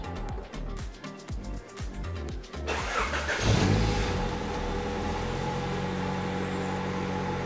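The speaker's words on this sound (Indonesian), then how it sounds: "Sekarang kita nyalakan mesin si Vario." A Honda Civic Ferio with a cold engine cranks with rhythmic starter whirring, catches and fires up, then settles into a steady running idle close by.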